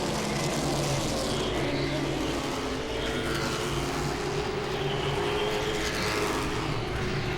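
Late model race cars roar around Langley Speedway in a dense, continuous wall of engine noise with no breaks, heard from a distance across the oval.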